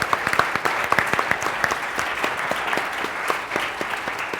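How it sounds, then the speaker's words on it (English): Audience applause for a panel after a talk on tackling obesity, steady dense clapping from a seated crowd that holds at an even level throughout, no voices over it. "Big round of applause for the panel."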